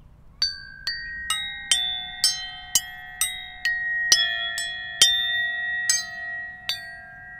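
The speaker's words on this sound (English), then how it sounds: "This is a bell tree made from recycled aluminium castings." A bell tree built from recycled aluminium castings rings out in a series of about a dozen bright metallic strikes, each leaving long overlapping tones that ring on together, heard alone without talk.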